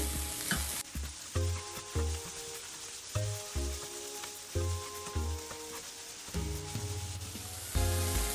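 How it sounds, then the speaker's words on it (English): Minced garlic sizzles in a hot pan for a stuffed mushroom starter, with repeated sharp scrapes and taps of a spoon stirring against the pan over a continuous crackling fry. "We'll add in my minced garlic and give it a stir"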